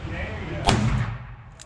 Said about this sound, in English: Sorry about that big gun back there